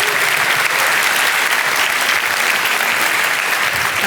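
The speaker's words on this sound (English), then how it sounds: "Big round of applause." A big round of audience applause after a startup pitch at the LAUNCH Festival 2017, dense and loud sustained clapping from a large crowd filling the whole stretch.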